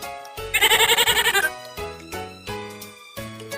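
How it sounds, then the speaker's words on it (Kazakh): A goat bleats in a quick, quavering series of pulses, loud and close, followed by several short sustained tones, with no talking. "Ешкі."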